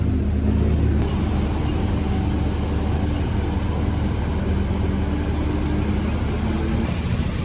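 Heavy vehicles, likely buses, pull out of the Poris bus terminal in Jakarta on a busy post-Lebaran travel day, a steady loud engine rumble with passing traffic and no talk.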